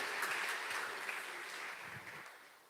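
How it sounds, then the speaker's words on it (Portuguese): A church congregation claps together during a sermon, a steady broadband patter of applause filling the room, moderately distant, with a few faint voices mixed in. "Você pode aplaudir o Senhor?"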